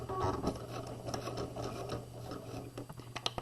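A sewing machine runs steadily, stitching along the folded edge of a slanted pocket on a quarter zip jacket, a close, even mechanical whir with rapid needle ticks and a constant low hum underneath.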